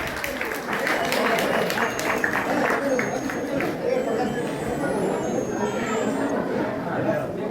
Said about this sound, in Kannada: ಎಲ್ಲ ಮಹಿಳೆಯರು ಜೋರಾದ ಒಂದು ಚಪ್ಪಾಳೆ ಇರಲಿ ಅಂತೇಳಿ ಹೇಳ್ತಾ ಇದ್ದಾರೆ.